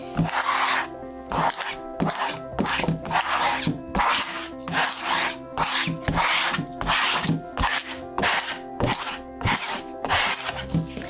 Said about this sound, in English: now we can use the squeegee on both sides of the screen to make sure that the vinyl is really well adhered to the screen